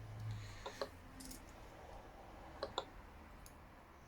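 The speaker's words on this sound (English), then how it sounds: "which I'm not sure why that random clicking is there" Random clicking from a Panasonic CF-19 Toughbook laptop running Kali: a few faint, sharp clicks, a pair near the start and another pair later, over a quiet low hum.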